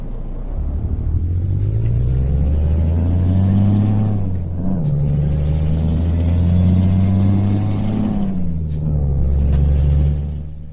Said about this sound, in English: You can hear that turbo whine again.